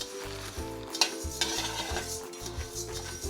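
Coriander seeds dry roasting in a pan while being stirred, a steady crackling sizzle with repeated scraping strokes of a spatula against the metal, close and fairly loud throughout, no talking.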